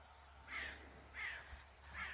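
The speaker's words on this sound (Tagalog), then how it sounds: "Ang ingay ng mga ibon." Three loud, harsh crow caws on a foggy early morning, evenly spaced about a second apart, standing out against a quiet background with a low hum.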